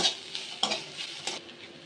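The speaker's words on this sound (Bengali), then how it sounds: "পেঁয়াজটা ভাজা ভাজা হয়ে গেছে, লঙ্কা গুঁড়ো দিয়ে দিলাম, হলুদ গুঁড়ো দিয়ে দিলাম। ভালো করে কষিয়ে নেব।" Onions fry in a pan with chilli and turmeric powder for a Sundarban crab curry, a close sizzle broken by four or five quick stirring scrapes of a spatula, with no talk.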